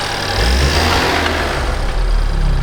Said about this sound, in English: give it a quick blip.